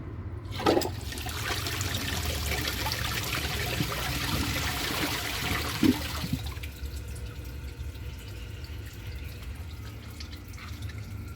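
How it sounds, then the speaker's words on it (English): A 2005 Briggs Abingdon toilet flushes with a loud rushing whoosh of water for about six seconds, then fades to a quieter trickle and drip as the tank begins refilling nearby. "once it's finished filling, I'll give it a flush and see if it can pass a grocery bag."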